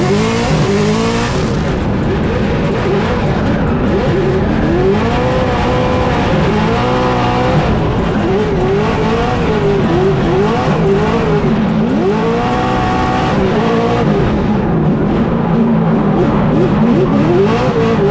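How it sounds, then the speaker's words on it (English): BMW drift cars at Formula Drift Long Beach, engines screaming loud and continuous with rising and falling revs, bouncing limiter notes and tire noise, a dense unbroken roar lasting throughout with no voices. "Tommy Lemaire now out front in the BMW, or they're both BMWs"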